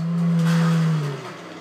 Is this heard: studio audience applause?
no